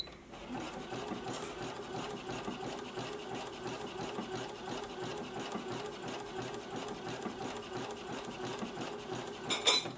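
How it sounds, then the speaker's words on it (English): A sewing machine runs steadily while stitching fabric, with a fast, even mechanical whir and rattle heard close and moderately quiet, with no talking over it. "it pulls it up automatically as I start sewing"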